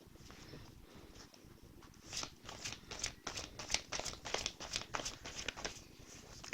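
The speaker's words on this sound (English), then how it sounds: "let's just shuffle it and see what happens" Tarot cards shuffled by hand in quiet, close flurries of soft rapid riffling and patting that grow busier after the first couple of seconds.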